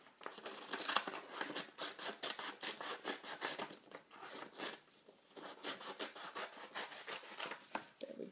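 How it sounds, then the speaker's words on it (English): Scissors snip steadily around a paper craft shape for a bee craft, giving a close, quiet series of crisp cuts with paper rustling between them. "This one I am going to cut around it."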